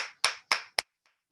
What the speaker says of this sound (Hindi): मैं होलसेल में तालियां चाहूंगा, डिजिटल और फिजिकल तरीके से